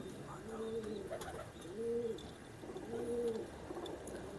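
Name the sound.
Ferozpuri pigeon cooing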